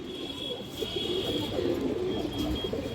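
A female pigeon of an old-line breed coos softly in a loft, its low murmuring calls rising and falling over a steady background hum with no talk.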